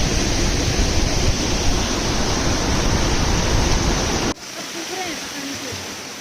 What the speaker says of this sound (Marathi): इथे एक धबधबा